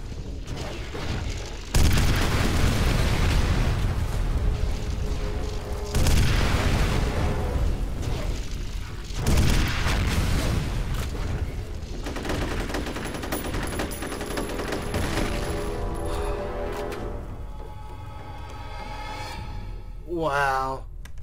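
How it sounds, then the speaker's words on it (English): Heavy gunfire and booming explosions from a rocket-launcher fight against a mech in the shooter F.E.A.R., loud and continuous with big blasts around two, six and nine seconds, then the battle fades and ends in a rising electronic sweep. "I blew up the mech"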